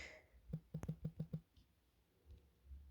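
Typing on a computer keyboard: about half a dozen quick, close keystrokes in a short burst, then near silence.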